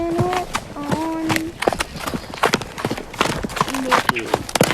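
A horse in a riding competition moves across the ground with rhythmic thudding hoofbeats in a steady gait, fairly close, mixed with brief whinny-like tones and people talking over it.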